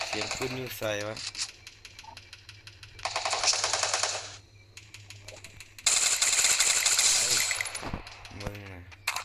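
Loud bursts of rapid automatic gunfire come in two long stretches, with people talking in between and over the shooting.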